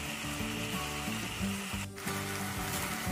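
Pieces of goat brain sizzle steadily in a hot pan, a continuous close frying hiss with light stirring clatter, no talking.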